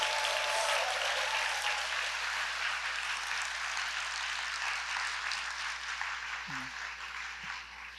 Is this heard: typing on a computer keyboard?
no